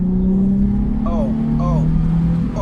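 A Nissan 350Z drives over a bumpy road with a loud, steady engine drone and road rumble filling the cabin, while a person talks over it.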